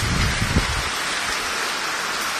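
Heavy rain pours down in Abohar, a dense, steady hiss of falling water with a few low rumbles early on, no voices.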